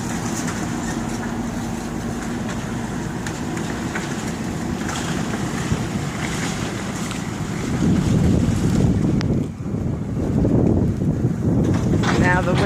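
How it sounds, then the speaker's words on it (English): Strong wind at a demolition site, a continuous heavy buffeting rumble on the microphone that surges louder in gusts near the end. "It's a pretty strong wind, as you can tell from the flapping of the ribbons around there."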